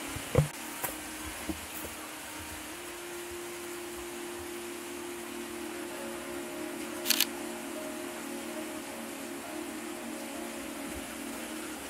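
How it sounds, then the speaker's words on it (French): A camera shutter fires once in a quiet cave, a brief close click heard alone over a faint steady background hiss, with a couple of small knocks early on. "Je vais essayer de prendre une photo ou deux pour voir."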